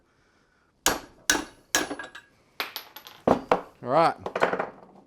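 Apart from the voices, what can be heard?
hammer knocking out a wedged socket from steering assembly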